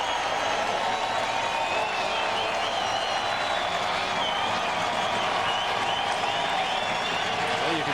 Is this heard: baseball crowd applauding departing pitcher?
yes